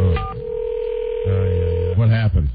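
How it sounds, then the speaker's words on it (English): Telephone keypad tones sounding a few times against a steady line tone, loud and close, with brief ringing-like chirps near the end and people talking around them. "I think I'm pressing the number to get, like, live help."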